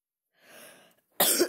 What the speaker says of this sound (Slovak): sorry za to kašľanie